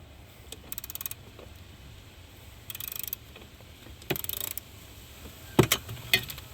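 A ratchet turning a 12 mm socket on a 6-inch extension clicks in several short, close bursts while a steering coupler is removed from a Kia Soul, with quiet pauses between runs and no talking.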